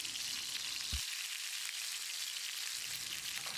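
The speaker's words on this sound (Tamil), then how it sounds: "தக்காளி போடும்போது மேலே எண்ணெய் தெறிக்கும்" Cut tomatoes frying in hot oil in a pan for garlic tomato chutney, a steady hiss and crackle with a soft thump as they drop in, close and continuous.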